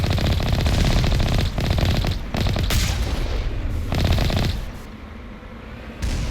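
Dense, loud gunfire against turrets in the video game Mass Effect Legendary Edition, rapid automatic bursts with heavy booming impacts, nearly continuous before easing off near the end.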